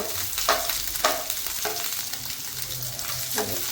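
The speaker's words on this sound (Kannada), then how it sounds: "ಅಕ್ಕ ಮಾಡ್ತಾ ಇದ್ದಾಳೆ ಫ್ರೈ ಮಾಡ್ತಾ ಇದ್ದಾಳೆ" Food frying in oil in a pan, browning steadily, with a constant sizzle and several scraping stirs of a utensil at irregular intervals, close and moderately loud, with no voices.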